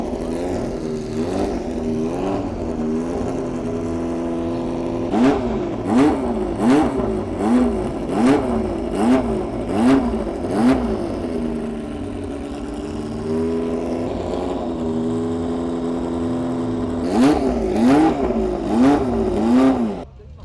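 Single-seater race cars, including a Lotus, rev their engines while waiting to go up a hill climb track: repeated rising and falling blips of a busy, buzzing engine over a steady idle, loud and fairly close, with no talking.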